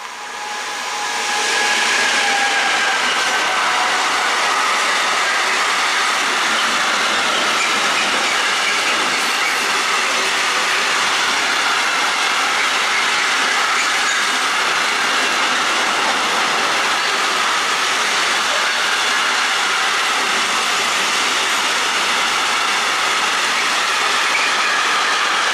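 A Rhein-Cargo freight train passes close by, a loud, sustained roar of rolling wagons with hissing and steady rail clatter that rises quickly and holds at full volume without talk.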